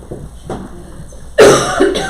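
A couple of soft throat noises, then one loud, harsh cough up close, followed by a smaller second cough.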